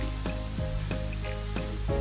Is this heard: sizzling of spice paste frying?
yes